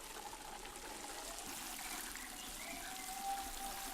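Water is poured from a container onto a newly planted tree mulched with dry grass, giving a steady, close splashing trickle that runs continuously for several seconds with no talk.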